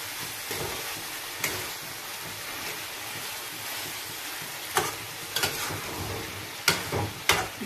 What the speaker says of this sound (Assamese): এনেকৈ লৰাই লৰাই মই অকণমান ভাজিম।